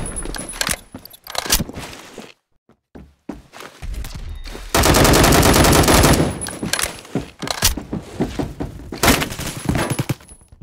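Loud bursts of gunfire in the video game Metro, including a sustained automatic stretch, ring out between short pauses and scattered clattering clicks.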